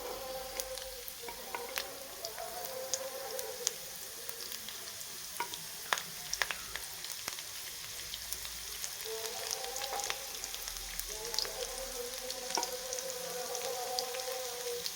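Garlic and green chilli sizzling steadily in hot oil, a dense continuous frying crackle with scattered sharp pops, close and alone with no talk.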